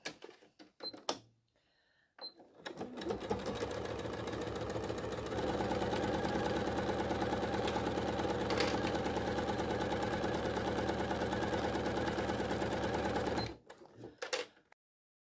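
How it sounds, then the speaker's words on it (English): A sewing machine runs steadily for about eleven seconds while stitching a quarter-inch seam on quilt pieces with a normal straight stitch. The motor whirs close by with a fast, even needle chatter, and a few clicks come before and after. "Using a normal stitch, everyday old stitch, I am going to do a 1/4 inch seam."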